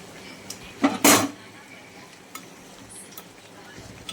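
Boiled meat lifted out of a pot with a spoon: a couple of close scraping, clattering clanks of metal against the pot, then faint light taps over a quiet kitchen background.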